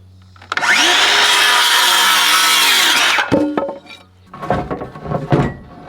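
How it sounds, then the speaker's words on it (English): Circular saw used with a speed square for building, spinning up and cutting through wood in one loud, sustained cut of about three seconds. Clattering handling noises and shorter bursts of activity follow the cut. "Speed square with circular saw, the best combo"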